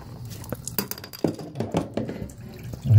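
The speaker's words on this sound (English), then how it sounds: "And here comes the water." Water splashes and trickles out of a toilet tank as the fill valve is pulled up and out, irregular gurgling spurts and drips close by, ending in a louder rush.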